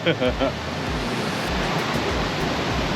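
The El Chiflón waterfall in Chiapas, Mexico, roars as a dense, continuous rush of water that stays loud and even; a few brief voice sounds rise at the very start.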